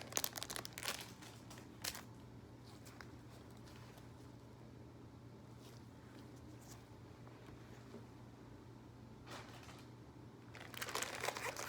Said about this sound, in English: Next, I will get my primary bag, remove it from the packaging